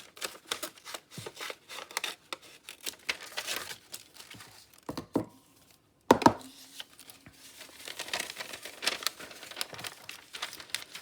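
Scissors trimming a strip of pianola paper for a bird-themed journal, heard as a quick run of crisp close snips and papery crinkles, with short pauses and a couple of sharper cuts, and no talking.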